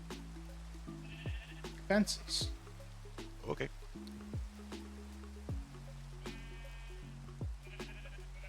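Minecraft sheep bleat several times in short nasal calls amid other game sounds, with people talking over them.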